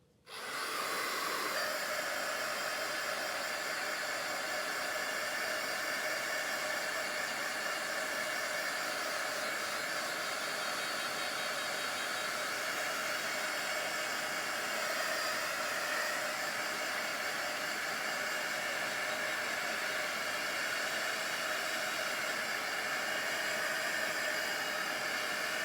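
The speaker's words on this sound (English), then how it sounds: "my heat gun, I'm gonna hit that and dry that a little bit" A heat gun blows continuously on a craft project, a loud, steady, close-up rushing hiss of hot air that starts abruptly and holds without pause throughout.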